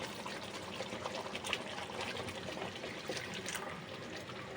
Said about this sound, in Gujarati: તો હવે આપણે થોડુંક પાણી એડ કરી દઈશું.